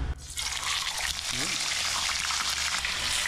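Fish sizzles and crackles in hot oil as it is fried in a Filipino catch-and-cook setting, giving a steady loud hiss throughout with a brief voice under it.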